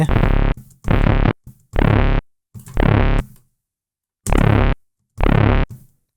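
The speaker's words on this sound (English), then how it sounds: "It's getting that interesting effect where this oscillator is modulating the first oscillator." Synthesizer patch where one oscillator modulates another, Skrillex-style, sounding as six short, harsh, distorted growling bursts with abrupt stops and silent gaps between.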